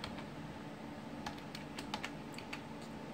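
Quiet, close key taps on a computer keyboard, a short irregular run of clicks over a low steady background hiss, with no voices.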